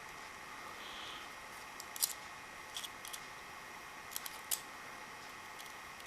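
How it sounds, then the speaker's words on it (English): Scissors tips work at the valve of a gas magazine for a Tokyo Marui MEU or 1911 airsoft pistol, giving faint scattered metallic clicks and scrapes against a quiet, hissy background. "you just want either prong of the scissors to go down on either side of the valve and reach into the little notch"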